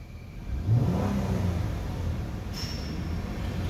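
A 2012 Chrysler Town & Country with the 3.6L engine runs steadily with the A/C on, a continuous low engine drone filling the whole stretch, with a brief high whine entering partway through.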